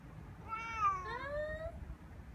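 An indoor cat sits outside in a backyard crate and gives a drawn-out two-part meow, close and clear over faint outdoor background noise.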